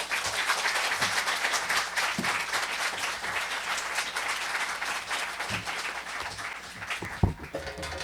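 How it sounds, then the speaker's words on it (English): An audience at a book reading event breaks into sustained applause, a dense wash of many hands clapping at moderate distance for several seconds. "Can we give Lisa another round of applause?"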